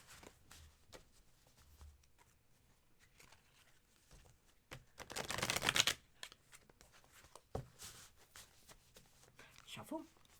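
A deck of tarot cards is shuffled during a live reading, with a loud riffling burst in the middle and scattered card taps and rustles around it. A person talks at times.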